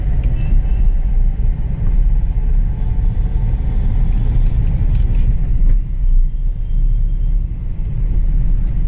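A 2012-18 Hyundai Xcent S diesel base model with about 65,000 km covered drives along, making a steady loud cabin rumble of engine and road noise with slight suspension knocks.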